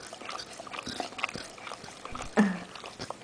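A dog eats popcorn up close, snorting and snuffling with wet chewing and licking sounds, one louder snort standing out near the end.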